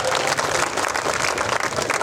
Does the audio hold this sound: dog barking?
no